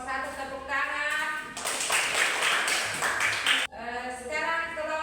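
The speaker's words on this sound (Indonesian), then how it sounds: "Sudah selesai kelompok 1, tepuk tangan." Applause for a student group in a classroom: a burst of clapping from several people lasting about two seconds, set between stretches of talking.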